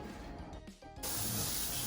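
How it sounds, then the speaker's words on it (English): A can of cooking spray hisses onto a foil-covered baking sheet in a kitchen, a short faint release followed by a loud, sustained spray close by. "The next thing that we want to do is spray down our baking sheet."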